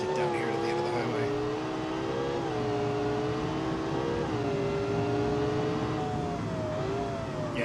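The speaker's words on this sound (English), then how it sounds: "This is biggest V12 I could fit in it." A V12 engine of nearly 1,300 horsepower revs on a highway in BeamNG.drive, a loud sustained whine rising and falling in pitch across several gear-like swells, with a voice talking over it.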